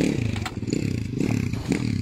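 A 2020 Yamaha YZ125 two-stroke motorcycle engine runs close by with a steady buzzing idle that rises slightly in pitch, alone and without talk.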